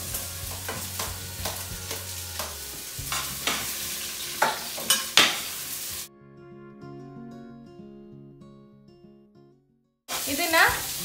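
Chopped onions fry in hot oil with cinnamon and cloves, a steady sizzle with stirring clatter and scrapes for about six seconds, then the pan sound drops away under a gap before sizzling returns at the end.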